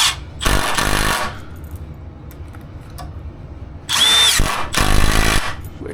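A power drill drives screws into countersunk holes in homemade shelves, in two loud whirring bursts with a quiet pause between, the second burst broken into two short runs.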